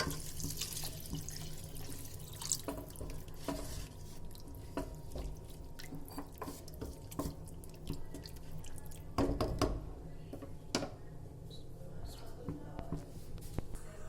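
A glass of water pours into simmering mushroom and capsicum gravy in a home kitchen, giving a steady close splashing trickle with scattered drips and small clinks, under low background noise.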